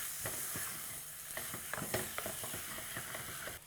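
Bone-in chicken pieces going into a pan of flour and sizzling, a quick run of scraping and crackling bursts over a low hiss, fairly quiet and with no voices.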